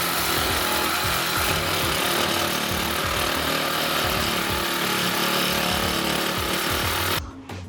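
A long reciprocating saw with a short blade cuts through a wooden stud, a loud, steady buzzing rasp that runs for about seven seconds before stopping abruptly.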